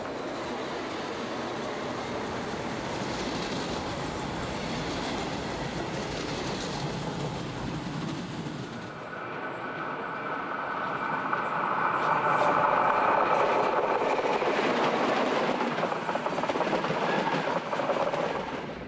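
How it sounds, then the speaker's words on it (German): A red DB Regio train hauled by a class 143 electric locomotive runs on the Höllentalbahn near Schluchsee, giving a steady rolling rumble with rail clatter that swells louder midway, under a narrator's voice. "Im Stundentakt fahren die roten Züge von DB Regio."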